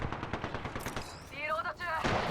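Rapid bursts of automatic gunfire in the Apex Legends battle royale shooter, a quick rhythmic string of shots early on, then a brief voice and further sharp shots, fairly faint overall.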